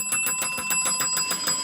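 A bright bicycle-style bell rings in a rapid, steady series of strikes, close and loud with no voices over it.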